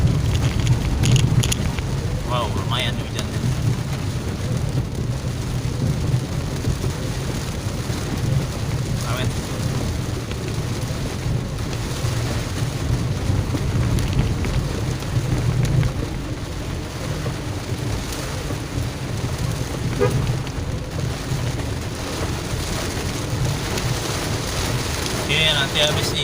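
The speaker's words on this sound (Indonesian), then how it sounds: "Wow, lumayan hujannya." Heavy rain pours steadily during a slow drive through congested Mangga Dua traffic, a dense continuous hiss with occasional sharper drops and thumps, loud and close around the vehicle.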